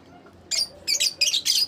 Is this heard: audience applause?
no